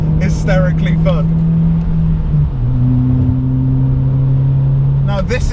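A modified car's engine revs hard through a third-gear pull, its steady drone holding pitch, then dropping briefly at a shift before climbing again, with short chirps at the start and end.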